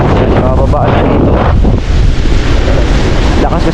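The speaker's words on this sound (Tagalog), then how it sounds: "Lakas kasi ng hangin" Strong wind buffets the microphone at a seashore with surf, a loud continuous roar filling the whole stretch with no pauses.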